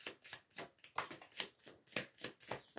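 Tarot cards being shuffled for a reading, repeated rhythmic riffling bursts about twice a second, close and fairly quiet, with no talk.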